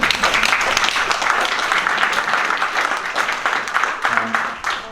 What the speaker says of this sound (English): Can you all give yourselves a round of applause?